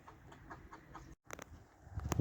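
Soft chicken clucks and short calls from a young rooster at a water feeder come in bursts, close by, with a louder flurry near the end and no talking.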